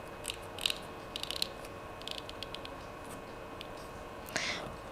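A waterproof connector on an IP67 direct-burial PoE extender kit is tightened by hand, producing faint, scattered ratcheting clicks against a quiet background with no talking.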